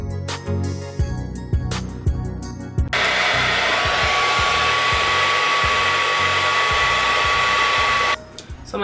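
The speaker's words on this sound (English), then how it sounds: "take the blow dryer, blow the edges" A hair dryer starts in short bursts, then blows continuously with a steady high whine before shutting off near the end.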